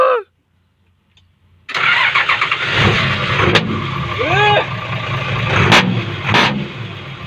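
A six-wheel dump truck fitted with a new 12-inch exhaust tip fires up after a brief silence and revs loudly, with a deep rumbling engine, sharp blips and shifting tone, close to the listener.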